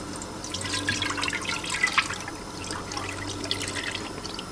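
Strained homemade grape juice, already squeezed through cheesecloth, poured into a canning jar through a mesh strainer for water bath canning; a steady close trickle and splash of liquid with scattered drips, no talking.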